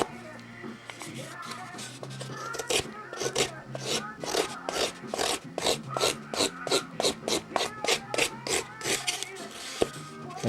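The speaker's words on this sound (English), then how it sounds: "we can go over to the sanding bench and just get the last little bit out with some sanding blocks" Rhythmic rasping strokes of sanding blocks working the tip of a wooden propeller at a sanding bench, about two dozen evenly spaced scrapes, close and fairly loud, with a faint background hum.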